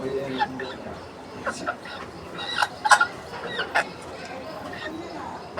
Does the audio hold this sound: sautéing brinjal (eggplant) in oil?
no